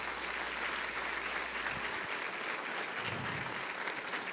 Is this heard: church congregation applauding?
yes